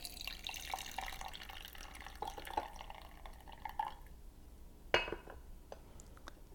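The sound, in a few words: tea being decanted, poured from the brewing vessel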